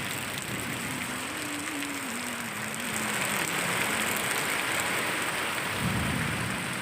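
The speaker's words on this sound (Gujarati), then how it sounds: "રાજકોટના ગ્રામીણ વિસ્તારોમાં પણ ધોધમાર વરસાદ થયો છે" Heavy monsoon rain pours down in Rajkot, Gujarat, as a dense, steady hiss that grows slightly louder midway, with a faint low engine-like hum early on and no speech.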